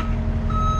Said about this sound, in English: First truck is backing up.